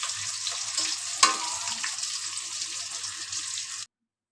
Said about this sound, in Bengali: মাছটা আমরা একটু কড়া করে ভেজে নিব